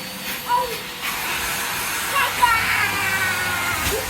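A Henry vacuum cleaner runs steadily while cleaning a very dirty living room sofa, giving a continuous hissing whoosh with small surges, as voices talk over it.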